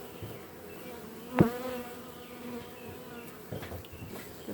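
Honey bees in a newly installed package swarm around the queen cage, making a steady, close, droning buzz. A sharp click cuts in briefly, and faint handling noises follow.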